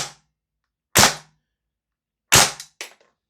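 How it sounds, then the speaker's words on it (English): A VFC G36C gas blowback airsoft rifle fires on semi-auto with hop-up off, venting gas out the barrel: a few sharp, close cracks spaced about a second apart, the last two coming quickly together. "So that's dumping gas out the barrel on semi-auto"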